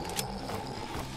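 Gun reloading in the co-operative arcade-style zombie FPS Dead Containment, quick mechanical clicks and ratcheting clacks over a busy game-noise bed, with no talking.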